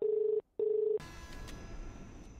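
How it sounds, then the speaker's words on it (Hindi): A mobile phone rings at home, two steady electronic ring tones separated by a short gap, loud and close, followed by a brighter, noisier ringing tone with no one speaking. "फोन बज रहा है तेरा।"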